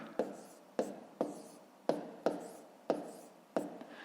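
Numbers are written by hand on paper for a multiplication exercise, about seven quick, evenly spaced pen strokes scratching close by, with no voices.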